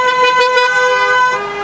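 A car horn sounds in one loud, sustained blast close by, holding a steady tone before tapering off.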